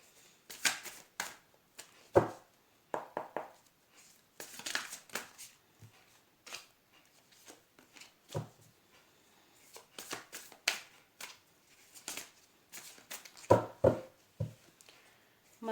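Tarot cards are shuffled by hand in repeated crisp riffles and soft slaps, close and fairly quiet, in irregular bursts with short gaps and no speech.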